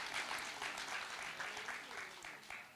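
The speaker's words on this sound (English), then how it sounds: "I think we have to give them a round of applause." An audience at a City of Johannesburg municipal induction event gives a sustained round of applause, steady dense clapping from many hands filling the room with no speech.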